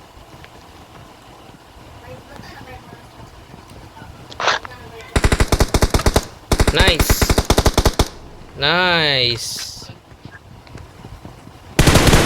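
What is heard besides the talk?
special gun firing in a video game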